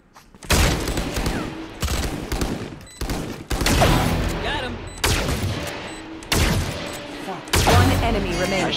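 Rapid bursts of gunfire in the Valorant shooter game, several loud fusillades separated by brief gaps, with a voice faintly audible underneath.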